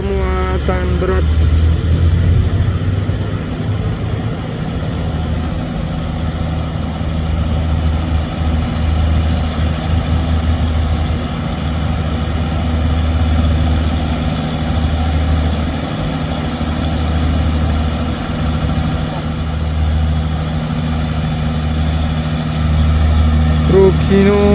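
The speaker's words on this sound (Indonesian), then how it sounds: "Truk-truk bermuatan berat." Heavily loaded Hino trucks idle on a hill road, giving a deep, steady diesel rumble that stays close and loud for the whole stretch, with voices faintly in the background.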